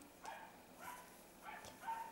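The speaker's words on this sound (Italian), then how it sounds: "Non so se sentite l'abbaiare di cani che c'è qua intorno" Dogs bark a few times somewhere nearby, faint and intermittent, with short yelping barks spaced across a quiet background.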